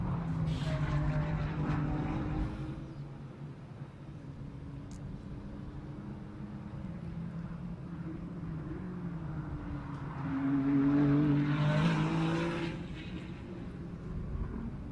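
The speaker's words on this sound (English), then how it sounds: "Yes, here goes Favre with another lap." A Ferrari Challenge race car laps the Sebring circuit in qualifying, its engine note rising and falling as it passes at a distance, swelling louder toward the end of the lap.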